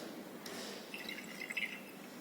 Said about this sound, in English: In this burette we have taken the standard sodium thiosulfate solutions. We have to add drop by drop